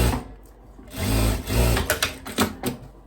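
Sewing machine stitching two seams on a long dress with puffed sleeves, a close, steady mechanical whir that rises and falls in short bursts with brief pauses between runs.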